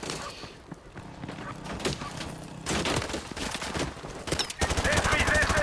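Automated turret machine-gun fire in the Call of Duty Modern Warfare 2 mission, rapid sustained bursts that grow louder and denser toward the end, with voices talking in the background.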